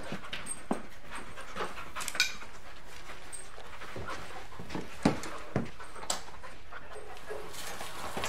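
Police search dog panting steadily at close range during a raid on a rented flat, with quick rhythmic breaths, occasional whimpers and faint clinks of objects in the room.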